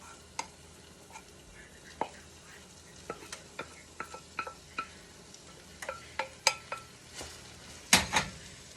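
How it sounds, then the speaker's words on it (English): Seasoned ground beef being mixed with cooked rice in a pan, a faint sizzle under repeated clinks and scrapes of a utensil against the pan, irregular and growing busier toward the end. "we're going to start working it all in together"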